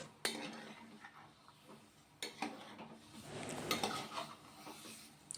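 Mutton being stirred and fried in oil in a pan for a Kolhapuri-style curry, quiet scattered clinks and scrapes of a spoon against the pan over a faint sizzle, in three or four short bursts.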